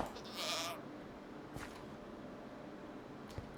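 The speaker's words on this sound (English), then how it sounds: "So we've just got a random goat here." A goat in the Minecraft video game gives a short bleat at the start, followed by a few faint clicks over a quiet background hiss.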